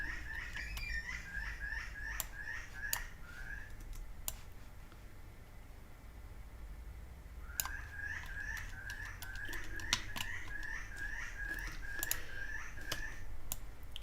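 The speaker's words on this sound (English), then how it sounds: "Can you hear the birds?" Birds outside chirp in quick repeated bursts of bright, high calls, two long runs separated by a quieter gap, with scattered sharp clicks like typing nearby.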